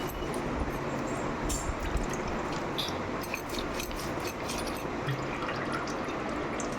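Sardine fish are scrubbed against a stone and rinsed with water, making a continuous wet splashing and dripping wash with scattered sharp scraping and clicking sounds, fairly close and without speech.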